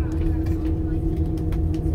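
Steady low road rumble and engine drone inside a moving bus, constant background noise with faint passing clatter and no clear voices.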